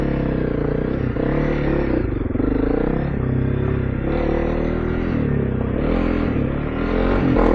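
Honda CRF300L Rally motorcycle fitted with a new exhaust, riding a dirt trail: a steady, loud engine drone with rising and falling revs and gear changes throughout, plus some rattling clatter.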